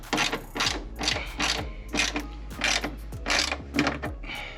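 Ratchet wrench turning a bolt while a carbon fiber rear diffuser is fitted to a McLaren, a close, loud series of rhythmic clicking ratchet strokes in even repeating bursts.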